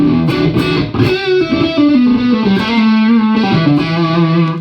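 Electric guitar played through a multi-effects unit, sustained distorted crunch tones with a chorused shimmer, loud and continuous with shifting chords and no talking.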